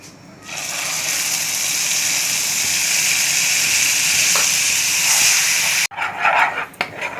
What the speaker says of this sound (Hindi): और अब आ जाएगा इसमें जो हमने मसाला पीस के रखा था, सरसों, लहसुन और लाल मिर्च